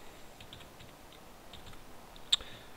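Light keyboard taps as numbers are entered into spreadsheet cells on a computer, a few faint scattered clicks close by and quiet, ending with one sharper click.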